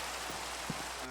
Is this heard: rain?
yes